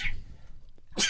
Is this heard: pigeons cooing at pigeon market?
no